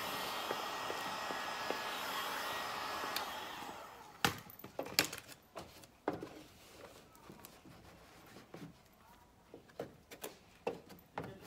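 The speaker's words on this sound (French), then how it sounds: "Là, avec le décapeur, je suis en train de sécher pour que ça colle." Heat gun running to dry tint film on a car headlight, a steady blowing whoosh for several seconds that cuts off, followed by scattered handling taps and knocks.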